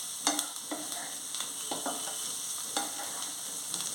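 Potato curry sizzles steadily in a pan, with a spoon stirring and scraping in repeated close strokes.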